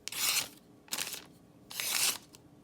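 An Emerson knife blade draws through material in three separate cutting strokes, each a bright, raspy scraping swipe lasting about half a second, close up with brief quiet gaps between them.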